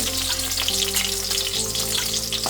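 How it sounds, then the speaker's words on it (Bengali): Dry red chillies and cumin seeds crackle and sizzle in hot oil, a dense, steady frying hiss that stays close and loud throughout with no voices over it. "দুটো শুকনো লঙ্কা ফোড়ন দিয়ে দিলাম একটু জিরে ফোড়ন দিয়ে দিলাম"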